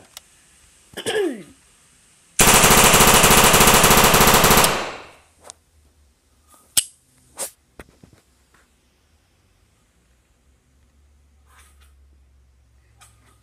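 A loud, sustained burst of rapid automatic AK-47 fire aimed at a TV lasts about two seconds, followed by a few scattered sharp knocks and quiet handling.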